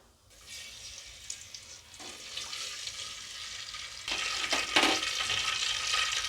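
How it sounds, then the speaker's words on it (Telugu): Chopped onion and green chilli hit three tablespoons of hot oil in a pot on the stove, giving a steady close sizzle with stirring scrapes that swells louder and busier about two-thirds through; no voices. "ఆయిల్ హీట్ అయ్యాక కట్ చేసుకున్న ఆనియన్, గ్రీన్ చిల్లీ వేసుకోవాలి"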